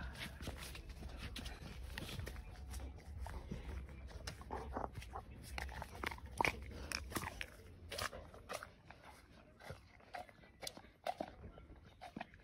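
An Alaskan malamute bites and chews an ice cream bar close up, with irregular wet crunches and smacking sounds over quiet background.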